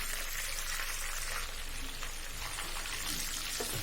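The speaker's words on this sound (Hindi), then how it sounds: "1-2 मिनट स्लो फ्लेम पर फ्राई कर लेंगे, फिर निकाल लेंगे।" Mutton kofta kebabs frying in oil over a low flame, giving a continuous close crackling sizzle with bright spattering pops, with no speech.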